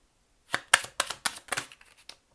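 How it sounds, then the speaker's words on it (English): Tarot cards are shuffled by hand in a quiet room, a quick run of crisp riffling flutters and soft slaps lasting about two seconds, close and clear with no talking. "When I shuffle these cards"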